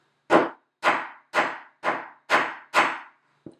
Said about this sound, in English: I'm just going to hammer it a couple times until it's flat